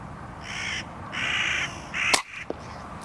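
Crows caw repeatedly at an air rifle corvid control shooting spot, three harsh bursts at moderate distance against a faint outdoor hiss, followed by a sharp click.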